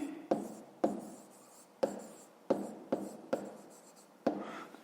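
A pen writes on paper while a fifth-grade math exercise is worked out, giving a series of sharp scratchy strokes, each a quick tap followed by a fading scrawl, close and quiet, with pauses between words.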